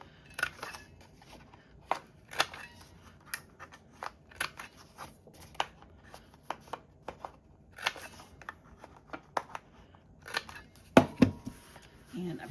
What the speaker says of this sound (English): So I'm going to go ahead and trim it now.